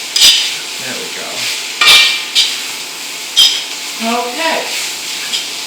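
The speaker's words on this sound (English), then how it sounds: "Just go around and flip that meat all over." Pork for fried rice being flipped and stirred in a wok, with loud metallic scrapes and knocks of the spatula against the pan over a light sizzle, and a brief spoken word.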